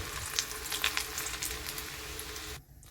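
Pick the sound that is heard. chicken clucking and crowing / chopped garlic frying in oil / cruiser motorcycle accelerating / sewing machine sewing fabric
chopped garlic frying in oil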